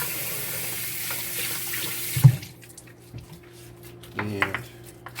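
Green onions rinsed under a running kitchen tap: water gushes steadily, then cuts off with a clunk, followed by light drips and a short second splash, close and fairly loud, no talking.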